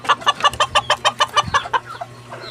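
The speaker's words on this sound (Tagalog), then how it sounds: "ito po ay bantam. Ito po, maliit na manok." A small bantam chicken clucks close by in a quick, even run of about a dozen sharp clucks that fade into softer ones, against quiet background hum.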